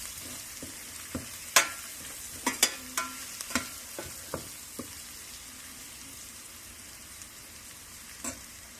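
Green and red chilies with spices frying in a pan, a soft sizzle under a run of sharp scraping and tapping stir strokes, clustered early and sparser later, close and fairly quiet.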